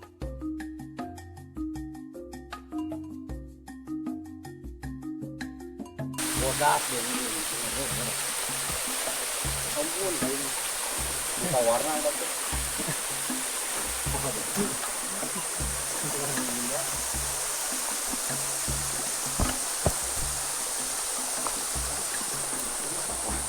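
Water flowing from a second mountain spring along a hiking trail, a steady broadband rush that starts after several seconds of music and continues close and even, with faint talk over it.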